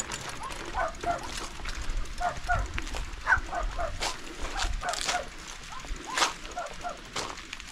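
Farm dogs keep barking in a rural yard with goats and sheep along a cycling route near Sremski Karlovci, irregular overlapping barks at moderate distance mixed with sharp clicks and outdoor noise.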